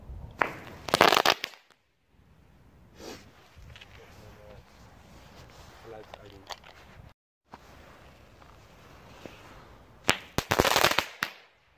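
Firecrackers go off in two loud, sharp crackling bursts, one near the start and one near the end, with people talking quietly in between.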